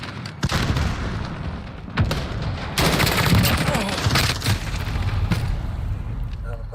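A grenade explosion and bursts of gunfire in the video game Call of Duty Modern Warfare: loud repeated booms and rapid shots crowd together over several seconds, close and dense, with game voice callouts mixed in.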